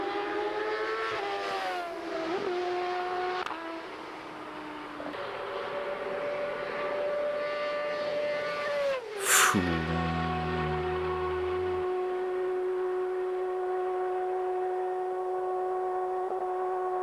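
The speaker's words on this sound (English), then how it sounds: "You can still hear the bike." A superbike on the Autobahn sends out a sustained high engine whine that shifts pitch as it approaches. It then sweeps past with a sharp rushing burst and a falling tone, and its drone lingers faintly afterward.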